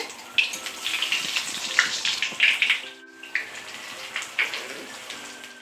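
Stuffed paneer fries in hot white oil in a kadai over a low flame, giving a soft, continuous sizzle and crackle with small popping bursts.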